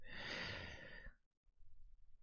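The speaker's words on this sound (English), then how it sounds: "a bit of snoring going on there" A single snore-like breath from a character sleeping in the video game 60 Seconds! Reatomized. One rough, airy exhale lasts about a second, then near silence follows with faint low background sound.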